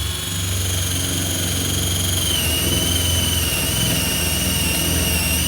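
A 21V cordless drill/driver bores into wood with a 1/2 inch spade bit, a steady high whine of the motor running continuously with a faint grinding under it, close and unbroken with no talk.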